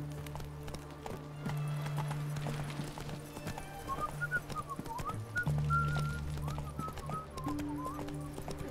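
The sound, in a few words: horse galloping hooves in video game Witcher 3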